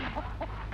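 A chicken clucks in short, close, clipped calls over a dense, noisy background, in a scene set in rural Argentina; no speech is heard during the brief moment.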